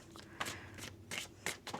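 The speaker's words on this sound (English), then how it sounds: "One more shuffle here, please, and thank you." Tarot cards being shuffled close up in a quiet room, a steady papery riffle broken by several sharper slapping bursts as the deck is cut and squared.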